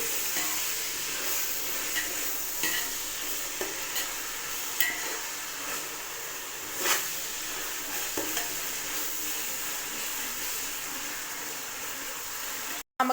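Mint leaves frying in a pan for mushroom biryani, a steady broadband sizzle running throughout with a few faint clicks of stirring, close and even, no voices.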